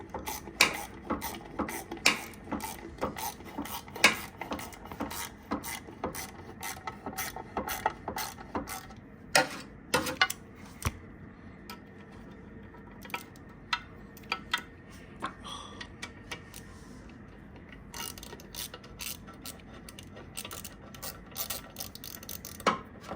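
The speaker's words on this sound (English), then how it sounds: "We're gonna just tighten these bolts up real quick." Ratchet tightening bolts on the front cover of a blown-up Dodge R/T engine, with quick bursts of sharp clicking repeated in short runs throughout, close and clear with no talk.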